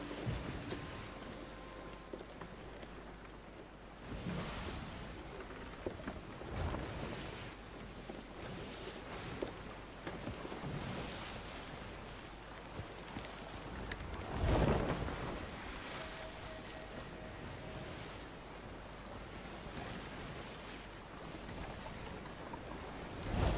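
A sailing ship at sea in Sea of Thieves, with steady wind, rushing waves and water washing against the hull, soft and continuous with occasional swells in loudness.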